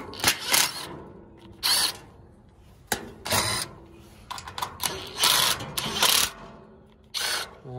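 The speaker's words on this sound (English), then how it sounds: "Let's get these screws out and let's get this lady a motor." A power driver whirs in short repeated bursts, backing screws out of a frozen Rheem condenser fan motor, with quiet gaps between each close, loud spin.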